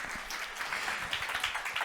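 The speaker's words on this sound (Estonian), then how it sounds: "Aplausi koht osoonile." Audience applause fills a hall at an environmental education conference in 2023, a steady, dense patter of many hands clapping at moderate volume for the full stretch, with no voices over it.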